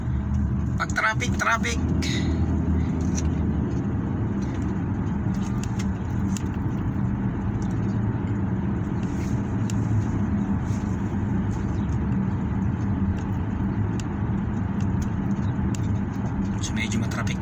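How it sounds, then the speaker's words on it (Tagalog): Steady road traffic at a stoplight, continuous car and engine rumble throughout, with a few brief sharper noises near the start and people talking over it. "So medyo matraffic yan."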